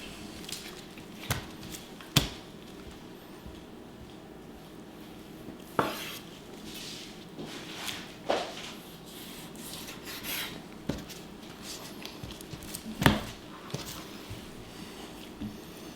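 A knife trims excess fat from raw NY strip steak, giving soft scraping and rubbing strokes with a few sharp taps of the blade on the board, close and fairly quiet, with no talking.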